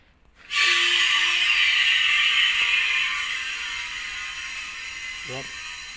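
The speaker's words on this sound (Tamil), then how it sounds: "இதுதான் இந்த ஏர் ஹைட்டாலிக் மிஷின் இதை வந்து நம்ம இப்போ வந்து ஆப்ரேட் பண்ணிக்கலாம்" An air hydraulic lift machine starts abruptly with a loud, close pneumatic hiss and mechanical whir that holds steady for several seconds, fading slightly toward the end, with a brief clicking rattle near the close.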